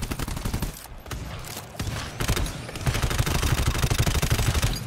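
Sustained automatic gunfire in the co-op shooter GTFO rattles in heavy, overlapping bursts that build toward the end. The shots stay loud and close, and no voices are heard.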